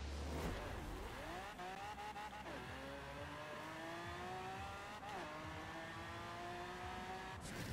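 A car in Forza Horizon 4 revving hard as it accelerates, the engine pitch climbing steeply through the gears in long rising sweeps, loud and continuous, with brief shifts and tire noise between them.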